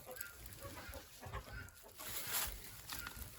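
Soft, scattered clucks from a hen, fairly close and quiet, with faint background noise between the calls.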